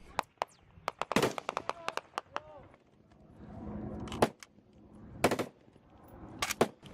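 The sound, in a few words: gunfire during combat in Afghanistan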